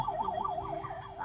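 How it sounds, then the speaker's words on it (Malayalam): An ambulance siren wails in a steady rising-and-falling pattern, loud and fairly near, heard alone over faint road noise. "ആംബുലൻസ്"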